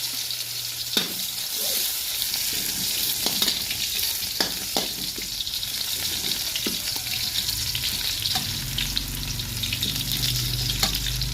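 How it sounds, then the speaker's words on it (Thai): Garlic hits hot oil in a wok for stir-fried winter melon with egg, giving a loud, continuous crackling sizzle up close with scattered spatters and occasional stirring clinks, and no talking. "พอน้ำมันร้อนก็ใส่กระเทียมลงไปเลยนะครับ"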